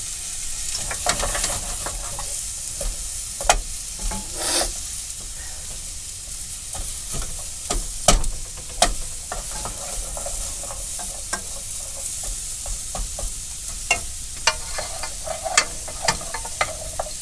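Ghost chili curry sizzles steadily in a pot while a spoon stirs it, with repeated scraping clicks and knocks against the pot over a continuous frying hiss.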